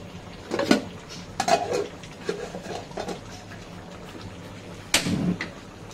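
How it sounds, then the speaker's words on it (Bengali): Metal pots and a lid clatter and clink on a home kitchen stove as a pot of washed rice is set on to cook, several sharp knocks scattered over a low background, no talking. "এখন আমি ভাত বসিয়ে দিব"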